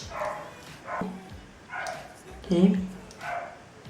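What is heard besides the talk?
dog barking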